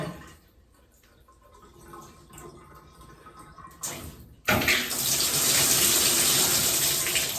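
After a quiet stretch with a faint knock, cold water bursts on from a newly repaired shower valve and then gushes loudly and steadily.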